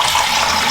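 Water pours steadily into a small basin holding a blanket being hand-washed, a close, continuous splashing rush with no talking.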